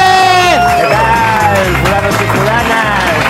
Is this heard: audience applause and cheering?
yes